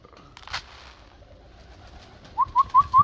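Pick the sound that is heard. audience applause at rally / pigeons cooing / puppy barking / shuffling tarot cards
pigeons cooing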